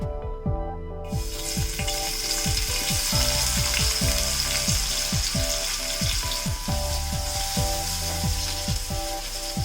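Onions frying in hot oil after cashews and raisins for Kerala-style fried rice, a steady loud sizzle with rhythmic scraping and stirring strokes throughout, beginning abruptly after a brief silence.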